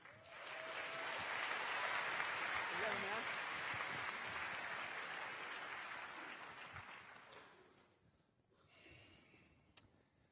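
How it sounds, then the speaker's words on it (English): Audience applause at an Ignite show welcoming a speaker: dense clapping builds and holds for several seconds, then tapers off into near-quiet with a few scattered claps and breathy room noise. "Round of applause for Brian."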